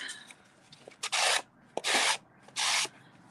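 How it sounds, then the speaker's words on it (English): A small hand sander rasps against the edge of a paper card in three short bursts, each about a third of a second, evenly spaced and close. "These little sanders are great if you've got little rough edges."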